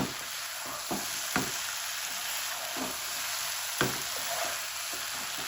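Green chillies sizzle and fry with okra in a pan, giving a steady, moderate hiss broken by a few soft stirring scrapes and clinks.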